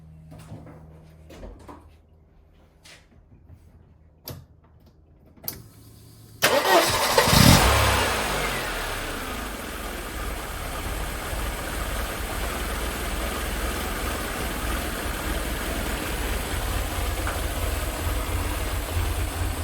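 A Mercedes 190E W201 with a misfiring, hard-starting engine cranks and fires after a few quiet knocks, then settles into a steady, loud, rough idle close by that runs on alone.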